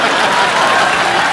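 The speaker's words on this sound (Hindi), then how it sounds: "ताली बजाओ।" Studio audience clapping steadily and densely at a taping of a TV comedy show, a continuous wash of applause from start to finish with no speech over it.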